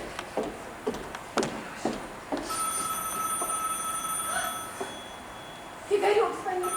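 Telephone ringing during a comedy stage play, with a series of sharp bell bursts followed by a sustained ring, close and clear, and a few short voices and stage noises around it.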